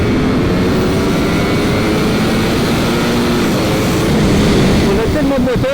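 A 2022 Ducati Panigale V4 S engine pulls hard in a high gear with a loud, continuous droning roar and rising tone near the end, under wind rush, with a rider speaking over it.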